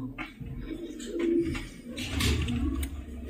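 Pigeons cooing softly during a village pigeon-flying competition, low repeated coos running through steady outdoor background noise with no talk.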